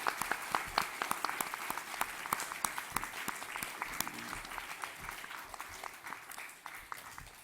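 Church congregation at a Sunday morning service applauds its pastor with sustained, lively clapping. Individual claps stand out sharply at first, then the applause settles into an even roar and thins slightly toward the end.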